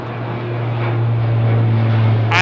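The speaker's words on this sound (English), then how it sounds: "Love the sound of a prop." A propeller airliner starts its engine and taxis at Heathrow Airport, a steady droning hum with a constant low tone that grows gradually louder from a moderate distance, with a short sharp noise at the very end.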